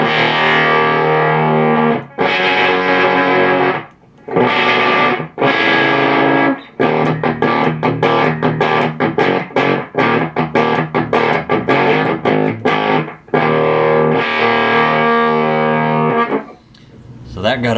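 Electric guitar played through a scrap-built distortion effect with both controls turned fully up, giving a loud, harsh, saturated tone in bursts of sustained chords and then fast choppy strummed stabs, with brief gaps between phrases.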